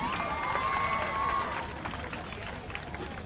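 Audience applause welcoming a minister onto the stage at a Bihar Diwas government event, a continuous spread of clapping and crowd noise throughout, with a voice heard over the start.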